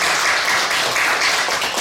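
A church congregation claps together during a Sunday worship service, welcoming a member back after surgery; the clapping is brief and dense, fairly close, and no one speaks over it.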